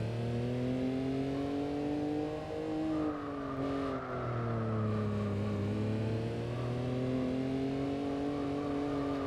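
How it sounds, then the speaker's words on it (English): A small 4-cylinder car engine in Gran Turismo 4 gives a steady, buzzing drone with clear harmonics, sliding down and then climbing again through gear changes, loud and close with no talking. "Little buzzing 4-cylinder engine behind me."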